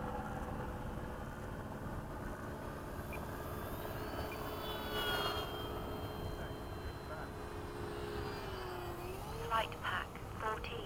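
Electric motor of a 4S-battery RC model airplane (Red Tail) climbing in flight at a flying field, a thin rising whine heard at a distance under steady wind and ambient noise, with a person talking nearby.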